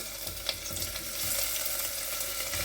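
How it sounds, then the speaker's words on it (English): Chopped onions dropped into hot oil in a kitchen pan give a steady, fairly loud hiss and crackle that holds throughout, with a few small clicks. "So now we're just going to put all of these onions into the pan"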